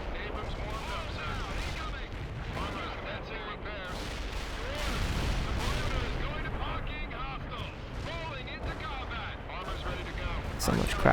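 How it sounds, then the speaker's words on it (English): Artillery strike in the real-time strategy game World in Conflict: a thick, continuous roar of booming blasts and crackling gunfire, with someone talking over the battle. "maybe we'll call in an artillery strike here as well"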